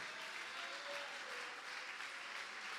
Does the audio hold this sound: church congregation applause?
yes